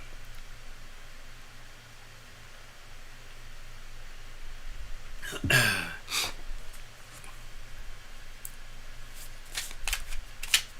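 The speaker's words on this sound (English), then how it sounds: "Cards are already well shuffled." A tarot deck is shuffled close by in a few quick riffling bursts over a faint, steady background hiss.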